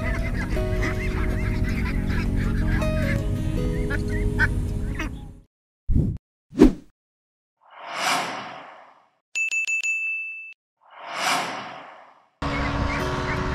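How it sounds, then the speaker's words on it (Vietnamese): A large flock of pink ducks in the Mekong Delta countryside squawks and quacks densely for about five seconds, then gives way to swooshing transitions and brief electronic tones. "Một đàn vịt màu hồng rất là đẹp."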